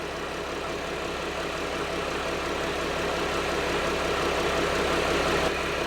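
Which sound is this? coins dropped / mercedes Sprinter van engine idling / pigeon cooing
mercedes Sprinter van engine idling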